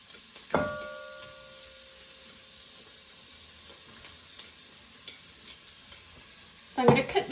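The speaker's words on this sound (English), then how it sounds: "if this sounds like it's doing a mad sizzle, it's because it only works on the highest temperature." Onions fry in a pan on a hob at its highest heat, giving a faint, steady sizzle under a sharp utensil knock near the start and a short clattering stir at the end.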